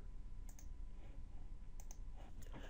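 A few faint, close computer mouse clicks sound while running a macro in Excel, spaced apart over a steady low background hum.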